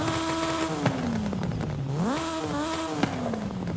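A Hayabusa-swapped stunt car in a racing video game revs its high-strung motorcycle engine, pitch dipping and climbing through gear changes in a continuous, close whine.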